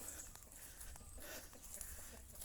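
Backyard chickens cluck and scratch for food behind a rural house in the rainy season, faint and somewhat distant over soft ambient outdoor noise, with a few scattered clucks.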